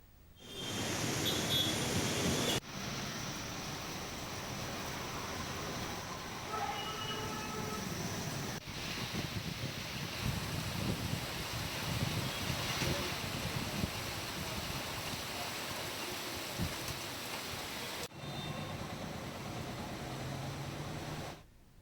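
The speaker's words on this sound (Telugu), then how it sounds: "ఉరుములు ఈదురుగాలులతో భారీ వర్షం కురిసింది" Heavy rain with strong gusty winds and thunder at Uppal Stadium, Hyderabad, a loud steady broadband roar of downpour and wind running throughout with a few abrupt breaks, no talk.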